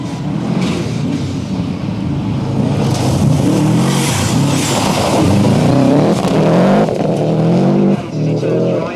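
A Subaru Legacy rally car charges through a special stage of the 1993 Network Q RAC Rally at Weston Park, its engine revving hard and loud with gear changes and tyre scrabble as it passes close by.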